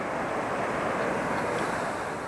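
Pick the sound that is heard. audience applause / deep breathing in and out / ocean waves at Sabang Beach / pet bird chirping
ocean waves at Sabang Beach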